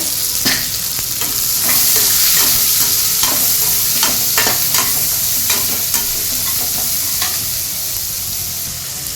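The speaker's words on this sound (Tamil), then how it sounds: "சின்ன வெங்காயம் போட்டுக்கலாம் இது கூடவே பச்சை மிளகாய் போட்டுட்டு நல்லா வதக்கிக்கோங்க" Shallots and green chilli sautéing in a pan, a dense continuous sizzle with frequent sharp scrapes and clicks of a spoon stirring, close and loud throughout.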